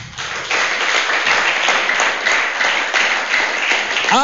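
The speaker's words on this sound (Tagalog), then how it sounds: "Ang lakas ng palakpak." A church congregation bursts into loud, dense applause that holds steady and close for several seconds, filling the room without any speech.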